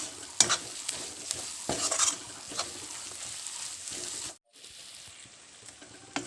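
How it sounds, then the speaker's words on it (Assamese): An egg fries in a pan over a gas flame, giving a steady close sizzle with a few sharper stirring scrapes, then a sudden brief drop before a quieter sizzle resumes. "এতিয়া ডিমটো দি মই ধুনীয়াকৈ ভাজি ল'ম।"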